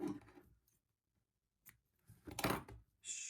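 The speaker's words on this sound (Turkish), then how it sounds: "Şimdi bu ipimi buradan kesiyorum ben." Scissors snip through macrame cord, close and quiet, with a few short cutting and handling sounds separated by near silence.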